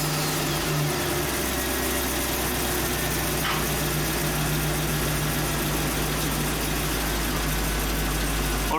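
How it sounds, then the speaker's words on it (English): A Chevy Express van engine running at a steady idle, a loud continuous low rumble with constant hum throughout and no voices. "So watch the test light as I go inside the vehicle and start the engine."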